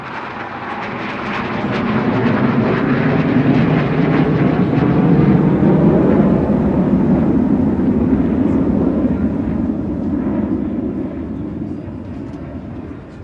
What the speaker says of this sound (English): Here they come again, Typhoon Leader with his number 2 following suit.